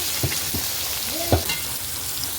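Chopped onions sizzling in hot oil in a pan while rava masala bath is prepared, with a steady frying crackle and a few louder clinks and scrapes as they are stirred, close up with no talking.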